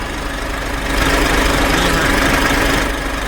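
A Scania Super 420 truck with a Euro 5 common-rail diesel engine runs steadily at idle, a dense, continuous rumble with a slight knock, close by and swelling a little after the first second.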